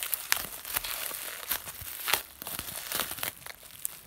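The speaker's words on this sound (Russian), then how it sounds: "И целлофановый пакет." A cellophane bag from a LOL Surprise ball toy is crinkled and torn open close up, giving a run of sharp crackling rustles with brief crisp bursts throughout.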